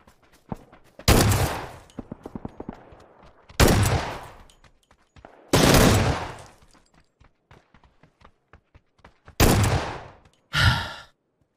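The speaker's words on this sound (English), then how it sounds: "People tell me this is the worst gun in the game, but this squad had no clue what hit them." Gunfire from a gun in the battle royale game PUBG: five loud, separate bursts, each a quick rattle of shots, spaced a few seconds apart with quiet clicks and small sounds between them.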